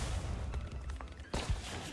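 Gunfire in the mobile battle game Zooba during a 5v5 match: rapid bursts of muffled shots and booms over a rumbling game background, with a sharper, louder blast near the end.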